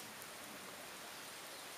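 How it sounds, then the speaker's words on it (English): Light drizzling rain falls in a downtown street, a soft, faint, even hiss of fine drops with no other clear sounds. "It's raining today. Drizzling,"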